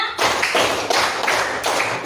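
A classroom group claps in a counted rhythm game, a run of sharp, evenly spaced claps about every third of a second, loud and close, with no talking over them.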